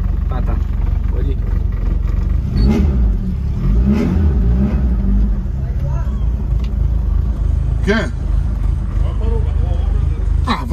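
An old Fiat 147 car engine revs and accelerates as the car drives off, a loud close engine note rising in surges between gear changes, with people talking in the cabin.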